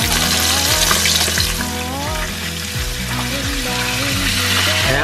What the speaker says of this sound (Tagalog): Iprito lang natin yan.